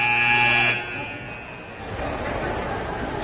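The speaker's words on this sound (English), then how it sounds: "I wonder if they have that buzzer in the other rink later in the tournament." A loud ice rink buzzer at a 12U youth hockey tournament blares steadily for under a second, then cuts off, leaving the echoing arena hum and distant crowd noise.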